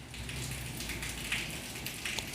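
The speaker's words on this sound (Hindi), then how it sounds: "इस समय मेरे यहाँ पे बारिश हो रही है" Rain falling steadily outdoors, a soft, even hiss at low level with a few faint drip-like ticks, continuing alone without voices.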